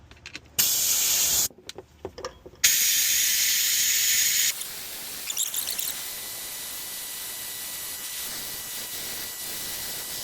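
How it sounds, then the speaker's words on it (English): A coolant vacuum fill adapter hisses loudly on a 2025 Toyota 4Runner radiator during a coolant vacuum fill, with sharp intermittent bursts cutting in and out, then one longer steady blast before settling into a softer continuous hiss. "So now we're going to put the system under vacuum."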